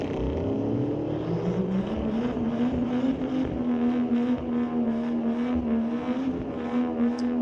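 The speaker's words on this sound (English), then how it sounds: "Pretty fast car." Street-legal drag car at a raceway accelerating down the strip, a sustained engine roar with rising pitch through the gears, heard steadily from a distance.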